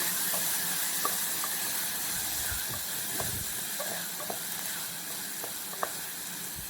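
A large tomato softens lightly in a hot pan, giving a faint, steady sizzling hiss with a few soft clicks and pops scattered through.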